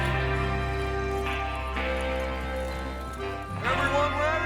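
Horses' hooves clip-clop in a gallop in the Red Dead Redemption 2 western video game, heard under a sustained tonal music bed with voices nearby.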